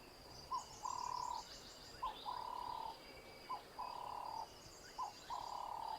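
A bird in South Africa repeats its call four times in an even rhythm, each a short rising note followed by a longer sustained tone, faint and distant over a quiet background.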